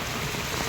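Heavy monsoon rain pours in Khed taluka, Ratnagiri, a dense, steady hiss of downpour filling the air, loud and unbroken with no voices.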